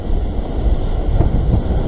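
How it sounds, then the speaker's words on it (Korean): Strong wind buffets the microphone in a loud, steady roar with gusting swells while float fishing at sea from a boat, waves faintly audible beneath. "입질인지 바람이 막 헷갈릴 정도로 불고 있어요 지금"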